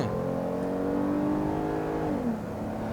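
A Kia Carnival with a V6 engine converted to run on LPG accelerates, its engine note a steady, close drone whose pitch rises gradually and then drops briefly near the end, with no talk over it.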